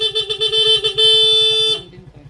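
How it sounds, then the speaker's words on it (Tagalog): Motorcycle horn sounding in one long, loud, steady honk lasting nearly two seconds before cutting off. "lumakas pa yung busina."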